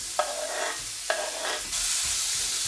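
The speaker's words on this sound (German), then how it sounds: "So, die Pfanne ist schon warm. Geben wir Äpfel rein." Apples dropped into a warm oiled pan and stirred, with two scraping stir strokes followed by a steady, close sizzle of frying fruit; no talking.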